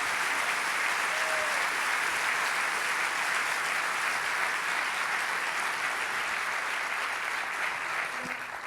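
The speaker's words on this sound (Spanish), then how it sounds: "dale ese aplauso al Rey de Reyes" A church congregation applauds in praise at a Spanish-language evangelical service, a steady, dense roar of clapping that fills the space evenly from start to finish.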